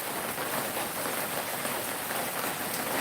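Steady rain falls around an outdoor lunch spot at a local place in the early afternoon, a dense, even hiss close by with no talking.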